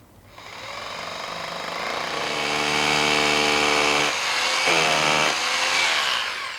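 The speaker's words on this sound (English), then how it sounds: "With your hammer drill, with your 1/4 inch bit, you're going to put it on your mark and begin to drill" A hammer drill with a 1/4-inch bit whirs up and grinds steadily into material, loud and close, briefly dipping and then resuming its rattling, buzzing drive.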